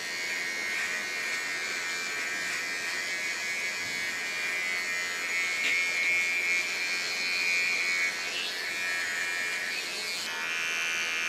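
A zero shaver with fine blades buzzes steadily while cleaning up a customer's neckline in a hair salon, a continuous close, moderately quiet electric hum with slight pitch shifts as it moves.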